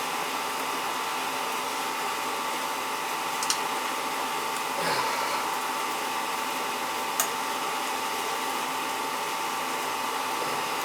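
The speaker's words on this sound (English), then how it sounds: "Got a bad burner motor there." An oil boiler burner motor with a fault runs in a steady, even whir like a blower, continuous and fairly loud, with a couple of faint clicks and knocks but no voices.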